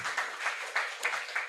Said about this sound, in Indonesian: Tepuk tangan lah buat teman-teman.